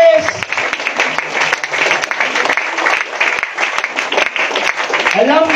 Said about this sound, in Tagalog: Sige po, palakpakan natin ang Diyos.